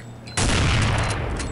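Gunfire in the video game Counter-Strike: Condition Zero, a sharp sudden blast after a quiet moment, followed by a loud, sustained burst of rattling shots and booming that holds to the end.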